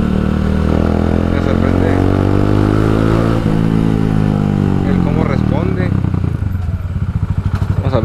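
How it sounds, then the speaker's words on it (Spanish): An Italika DT 150 delivery motorcycle fitted with a 250Z engine runs on a test ride. Its loud, continuous engine drone shifts in pitch as it is ridden, and someone speaks over it. "Pues ya vamos a concluir con la prueba de la moto."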